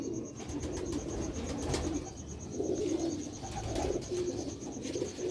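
Pigeons coo in low, throaty murmurs close by, the rolling calls rising and falling over a faint steady background hum.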